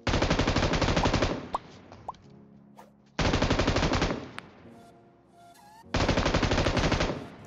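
Bursts of automatic gunfire in a mobile shooter game during a fight against a shielded enemy, three long rapid-fire volleys separated by quieter gaps with scattered single shots, loud and close.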